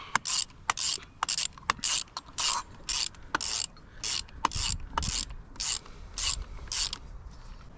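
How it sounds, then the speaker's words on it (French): A ratchet wrench tightens a bolt during an engine change on a Renault Kangoo, clicking in a rapid, regular series of strokes with short pauses, close and fairly clear. "Je le visse."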